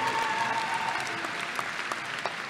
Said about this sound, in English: please, students, give a round of applause to your parents and family members